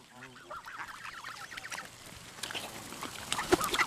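Geese honking and squabbling over tossed corn at a bird sanctuary, a busy flurry of nasal calls growing louder and more crowded toward the end, with faint voices in the background.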